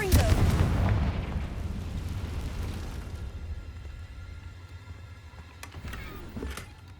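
A Confringo blasting-spell explosion in the video game Hogwarts Legacy: a loud, close, rumbling blast that decays over a few seconds, then a quieter stretch with a couple of sharp clicks near the end.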